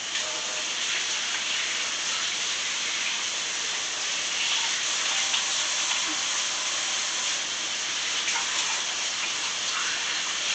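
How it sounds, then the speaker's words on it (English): Steady rush of running tap water while hands are washed in a kitchen during cooking, continuous and close, with no voices. "Let me wash my hands."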